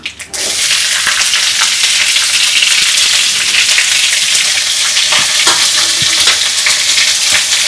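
Mustard seeds, asafoetida and curry leaves frying in hot oil for a South Indian tomato curry, a loud continuous sizzling hiss with scattered pops and crackles right up close.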